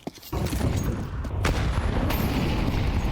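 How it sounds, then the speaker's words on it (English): A grenade detonates in a Counter-Strike 2 match at the BLAST Austin Major, a sharp boom followed by a sustained rumbling wash of noise with scattered gunshots, close and loud, with no voice over it. "Oof, nasty nade. There's Heavy God down. Nasty nade down Banana"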